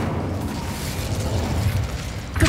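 An Incendio fire spell is cast in Hogwarts Legacy, producing a low, rumbling whoosh of flame that holds steady for a couple of seconds and ends in a sharper burst.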